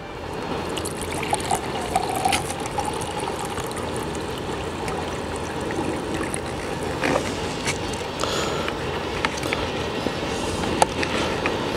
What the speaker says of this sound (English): I'm going to go ahead and put the acid into the jar